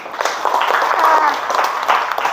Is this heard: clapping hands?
yes